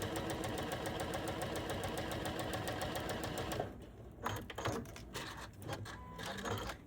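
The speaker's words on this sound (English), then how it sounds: "we're just going to sew a 1/4 inch all the way down" A sewing machine stitches a quarter-inch seam through a patchwork quilt block with a patchwork foot, a steady rapid mechanical whir that runs close and loud for several seconds, then stops and gives way to soft handling sounds.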